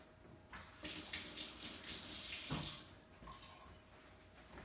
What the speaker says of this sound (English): before you start in the kitchen cooking anything, you wash your hands